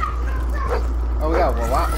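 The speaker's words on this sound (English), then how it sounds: "we got freaking dogs" Several dogs in the shooter game Black Ops 4 bark, yip and whimper over steady game noise, with people talking over the top.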